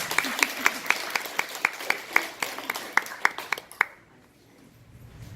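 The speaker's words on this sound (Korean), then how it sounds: "이제 박수를 치시려면 크게 쳐주시고" Applause from a church congregation at a Seventh-day Adventist church in Gyeongsan: a steady run of evenly spaced, crisp claps that stops abruptly, leaving a quiet room.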